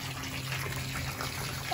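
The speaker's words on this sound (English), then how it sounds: "Right now we are filling up the pool with the" A garden hose runs steadily into a backyard pool, a continuous soft rush of water under a brief bit of talking.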